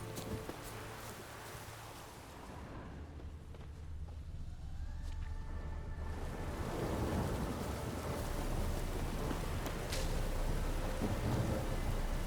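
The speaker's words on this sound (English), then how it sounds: "A storm, damn it." Thunderstorm in The Witcher 3: Wild Hunt: steady rain hisses throughout while deep thunder rumbles and swells, growing louder toward the end, with a few brief tonal game sounds layered in and no talking.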